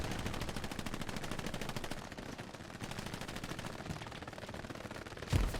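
Several machine guns firing at once in the Hell Let Loose World War II shooter, a dense, continuous rattle of rapid bursts filling the whole stretch, with a louder single crack near the end.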